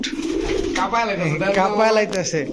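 Blue shirting pigeons offered for sale coo in a loud, close, continuous warbling run with harmonic rises and falls, filling the clip without pause.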